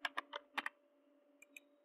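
A computer keyboard is typed on in short bursts of crisp, close key clicks, four or five quick taps followed by a pause and two lighter strokes, over a faint steady hum.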